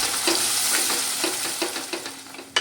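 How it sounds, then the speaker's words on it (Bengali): Ground spice paste sizzles in a pan of Hyderabadi paneer masala as a spoon stirs it, with a constant frying hiss broken by regular scraping strokes and a sharper knock at the end. "বেশ কিছুক্ষণ ধরে ভালো করে নেড়ে চেড়ে নেব"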